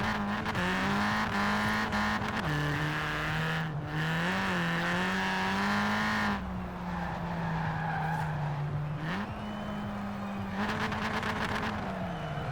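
A Ford Fiesta XR2 drag build in Forza Horizon 4 roars with a steady, sustained engine drone that climbs and dips through revs, loud and close, with tyre squeal and no speech.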